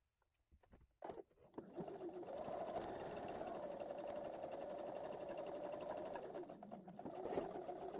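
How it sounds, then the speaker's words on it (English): A sewing machine stitching a dart seam in fabric runs steadily for several seconds after a few brief handling clicks, a close, continuous whirring hum with no talk. "when I sew a dart, I prefer to end my seam at the tip"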